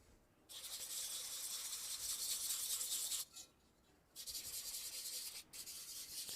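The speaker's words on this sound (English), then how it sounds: "Just using a little bit of wet sandpaper to get a little bit of the last texture off of those." Wet sandpaper rubbed over clay pottery, making a close, steady scratchy hiss in two long passes with a brief pause between them.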